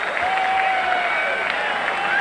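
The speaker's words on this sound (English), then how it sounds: "the fans get some of the hand clapping going" Baseball fans clapping in the stands at a 1986 White Sox game, a dense rhythmic patter of many hands spread across the stadium, with a whistle and a broadcast voice talking over it.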